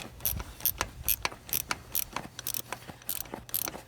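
A socket wrench ratchets on a starter bolt of a John Deere 4020 tractor, giving a rapid run of close, sharp metallic clicks in short repeated bursts with brief pauses between strokes.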